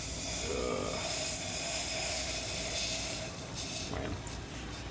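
Steam hisses steadily from a classic Greca stovetop coffee maker as it brews, a broad continuous rush close by that swells slightly near the end.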